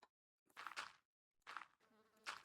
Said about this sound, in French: Ta gueule, la mouche.